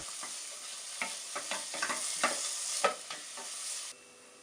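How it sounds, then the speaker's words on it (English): Chopped onion frying over medium heat for an Indian tarka, a soft steady sizzle broken by repeated scraping stirs of a spoon in the pan, close and with no talk, ending abruptly. "Now we can add the chopped onion. Cook it on medium heat. Keep stirring until the golden brown."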